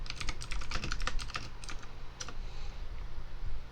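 Fast, close typing on a computer keyboard while writing a Bash script, with dense rapid key clicks in bursts, a short pause, then more scattered keystrokes, and no speech.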